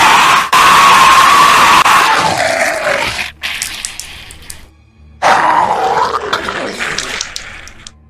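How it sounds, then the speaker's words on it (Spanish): A horrifying scream sound effect in a Lovecraft audiobook: loud, shrill shrieks and wailing howls in two bursts separated by a brief near-silent gap, crowd-like and chaotic. "brotó la más horrenda y demoníaca sucesión de gritos, jamás oída por ninguno de los dos"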